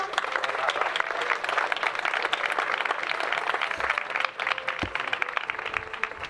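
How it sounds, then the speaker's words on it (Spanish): Warm applause from an audience at a Spanish cultural performance, steady clapping for several seconds with a brief dip near the end and a faint voice underneath. "le damos un fuerte aplauso"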